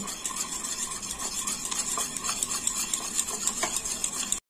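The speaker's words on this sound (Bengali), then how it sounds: "এটাকে খুব ভালো করে গুলে নিতে হবে, মিশ্রণটা ভালো করে তৈরি করে নিতে হবে।" Batter for bitter gourd fritters being stirred and whisked in a bowl, a quick steady run of scraping, clicking utensil strokes against the container, close and alone, stopping abruptly at the end.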